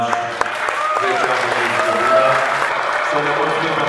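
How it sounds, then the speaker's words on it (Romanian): An audience at an indoor rock concert in Iasi applauds the volunteers, a sustained wash of clapping while a voice or tones carry over the top. "vreau să dăm un robot de aplauze celor 60 de voluntari care au lucrat la loc în Iași"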